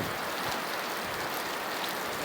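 Steady rain falls as a dense, even hiss, close and constant throughout, with no talk over it.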